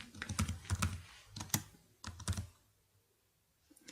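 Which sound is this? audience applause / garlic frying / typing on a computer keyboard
typing on a computer keyboard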